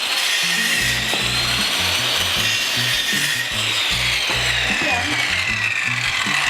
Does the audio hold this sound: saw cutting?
yes